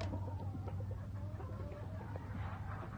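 Young Baby Bulls game rooster, bred from a Washington cock and a California hen, clucking in soft repeated calls over a steady low farm hum, nearby and moderately quiet.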